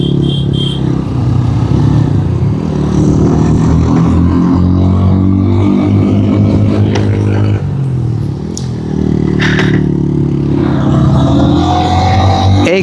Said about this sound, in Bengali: এইখানে আমাদের সোজা এক গিয়ারে উঠতে হচ্ছে, এক গিয়ার, এবং আমাদের থ্রোটল আছে এখন মাত্র 7000 অ্যাম্পিয়ারে।